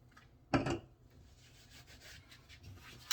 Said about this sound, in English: Dry the hands off.